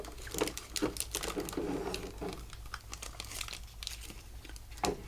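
Plastic packaging crinkles and rustles around an anime figure of Mikazuki Munechika, with close, irregular bursts of crackling handled over about five seconds and no speech.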